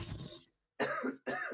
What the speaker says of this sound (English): It's not me coughing.